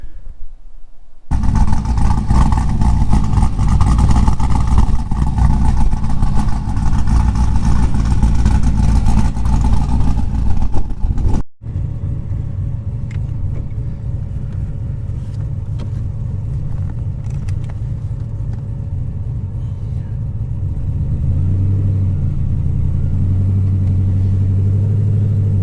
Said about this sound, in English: So far, just kind of driving the car around.